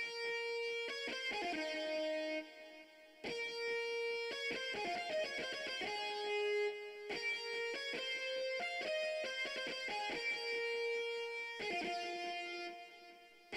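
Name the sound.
distorted electric guitar lead preset in FL Studio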